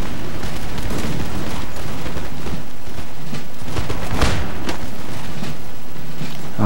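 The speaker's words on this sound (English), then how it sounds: "fire at will." Musket volleys ring out across a Darthmod battlefield in a Total War game, a dense continuous roll of overlapping gunshots and rumble, with one sharper crack standing out partway through.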